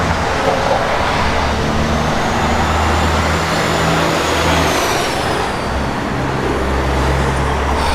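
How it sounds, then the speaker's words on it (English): A 1970 Chevrolet Nova's 454 big-block V8 with a Holley 4-barrel runs steadily at idle, a continuous, fairly loud low rumble that stays even throughout with no talking. "Good running big block"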